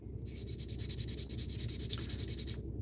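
Hand sanding with 1000 grit sandpaper, heard as a steady series of quick, even rubbing strokes close up that run for about two seconds and then stop, with no talking.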